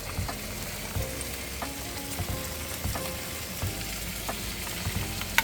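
Pork kimchi stew bubbling in a pot, a soft steady simmer with faint popping bubbles and light clicks, quiet and close, with no talk.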